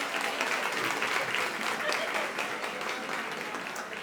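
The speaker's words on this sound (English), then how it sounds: "Okay, a round of applause," Audience applause at a Latin Women's Initiative luncheon: a dense, steady wash of many hands clapping that holds for the whole stretch, with no talk over it.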